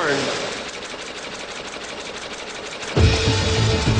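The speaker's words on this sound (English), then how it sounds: "Behold the loom, the machine that turns yarn into fabric." Industrial weaving loom running in a woolen mill, a dense steady mechanical clatter with rapid repeating beats throughout, turning heavier and more thumping near the end, with speech faintly mixed in.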